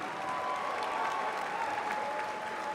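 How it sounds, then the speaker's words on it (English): Crowd applauding at an Army fight-night boxing event, a dense, steady roar of clapping and cheering that holds evenly for a few seconds. "let's give that group another hand"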